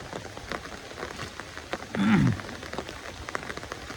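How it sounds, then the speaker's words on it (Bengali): Rain falls steadily near a riverside farm in Bangladesh, a soft continuous patter with a brief louder burst midway. "এখন বৃষ্টির দিনই বৃষ্টি পড়বে কিছু"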